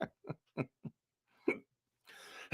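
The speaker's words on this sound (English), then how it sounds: "Uh-oh, I got hiccups now." Repeated hiccups from a person, several short sharp vocal gulps spaced irregularly, close and clear with a brief burst of noise before the last one.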